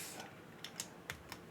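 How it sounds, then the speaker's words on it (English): Keys are typed on a custom ergonomic mechanical keyboard: a few sparse, faint clicks spaced irregularly over a soft background hiss. "I'm used to typing on it non-tinted"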